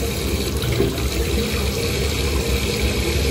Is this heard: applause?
no